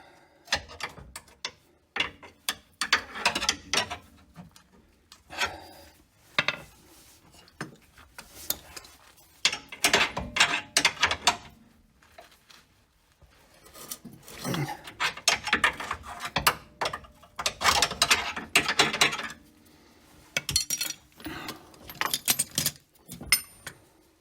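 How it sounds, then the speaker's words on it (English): Wrench ratcheting on a trackbar bolt of a Jeep Cherokee during bushing reinstallation, heard as irregular bursts of rapid clicking separated by pauses, fairly close and loud. "Get that wrench out."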